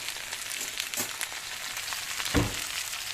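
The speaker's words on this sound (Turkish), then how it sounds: "Arkadaşlar balıklarımızın Alt tarafı gayet güzel kızardı." Bonito fish frying in a pan, a soft, steady close sizzle and crackle of hot oil with a small pop or stir near the end, no talk.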